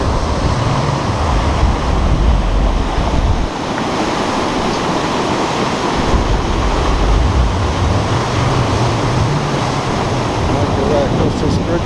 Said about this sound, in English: There's a lot of water coming down here